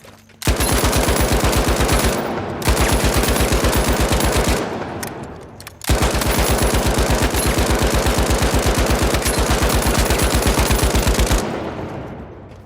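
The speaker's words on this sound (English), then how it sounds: "Here's an example of me burst firing the weapon versus me trying to do it full auto at long range." Gunfire from a weapon in the video game The Finals, heard first as two short bursts of rapid shots, then as one long, loud, sustained stretch of full-auto fire before it fades out.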